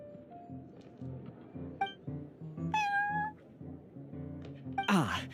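A cat in the video game Genshin Impact meows repeatedly at close range, mixed with glassy clinks and chiming game sounds and ending in a bright flourish.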